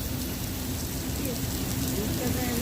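Water sprays steadily from a fire hydrant hose during a hands-on training drill, a continuous loud hiss and spatter with no break over a few seconds.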